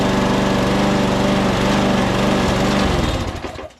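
A Poulan PXT12538 lawn tractor with a Murray deck and a newly fitted auto-choke engine runs steadily at close range with a loud, continuous drone, then winds down as it shuts off near the end.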